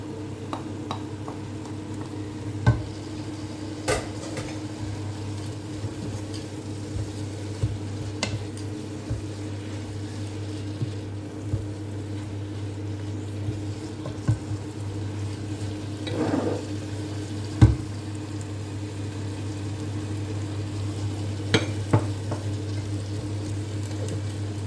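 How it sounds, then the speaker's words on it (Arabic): Leek and chicken frying in a pot until their water cooks off, a steady low sizzle under a constant kitchen hum with occasional soft clicks and stirring knocks, close and even throughout, no talk. "من بعد ما كتقلى حتى كتنشف الماء اللي فيها، يعني داك البورو وداك الدجاج"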